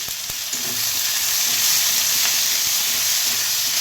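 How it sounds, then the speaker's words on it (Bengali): Chopped capsicum and tomato frying in a pan while being stirred, a loud continuous sizzle and hiss with a couple of sharp utensil knocks near the start. "এবারে আমি একটু নেড়ে নেব ভালো করে।"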